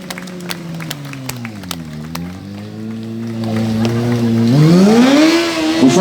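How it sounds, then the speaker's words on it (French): Car engine revving at a stunt car show, a steady low drone that rises and swells louder toward the end, with scattered crowd noise around it. "Vous chauffez un peu le véhicule."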